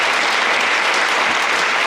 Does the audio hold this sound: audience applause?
yes